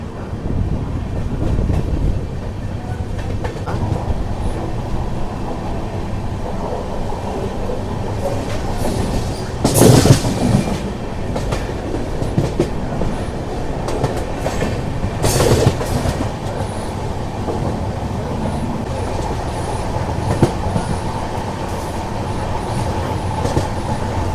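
The Prasanthi Nilayam Express with new LHB coaches rumbles along the track near Hindupur, a steady loud roll with rhythmic clickety-clack and brief sharp bursts, heard from on board.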